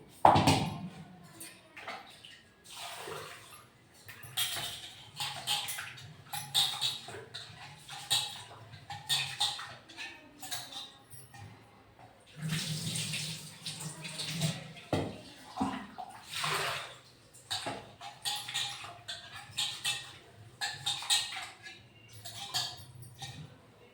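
Rice being washed by hand in water in a home kitchen, with irregular swishing, splashing and sloshing at close range, fairly quiet, with short pauses between bursts and no talking.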